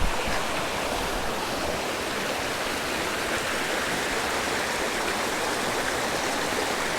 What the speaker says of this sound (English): We have the stream right next to us.